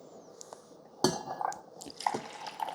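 Coffee pours from the carafe of a Breville Grind & Brew coffee maker into a cup, a soft liquid trickle mixed with light clinks of glass and ceramic, close by and moderately quiet, with no talking.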